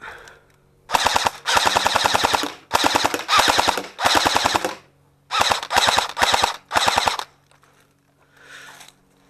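An airsoft US M6 rifle fires rapid bursts at a small metal plate, eight or so short volleys of sharp mechanical rattling with brief gaps, loud and close, ending in quiet.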